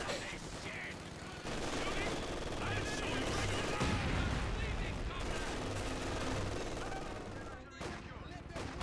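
Machine gun bursts and scattered gunfire from a Company of Heroes 2 battle, an M42 support weapon among them, sound dense and continuous with layered explosions and battle noise, under a commentator's voice.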